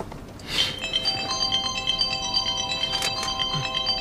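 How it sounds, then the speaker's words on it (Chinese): A mobile phone rings for an incoming call inside a car, its melodic electronic ringtone repeating steadily at moderate volume over low background rumble. "哥，我接个江叔电话。"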